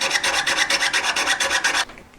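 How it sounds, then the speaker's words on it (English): A hand saw rasps back and forth through wood in about a dozen quick, even strokes, loud and close, before stopping abruptly; no one speaks. "I'm gonna turn it round and cut from there"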